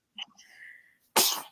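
A single sharp, loud sneeze bursts out at close range right after a brief faint vocal sound, then cuts off.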